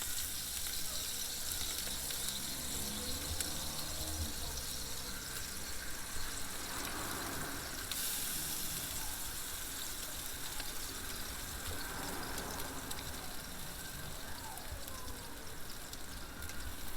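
Chicken on a charcoal grill, basted with a mop, gives a steady, quiet sizzle and frying hiss that runs unbroken the whole time with small crackles and pops.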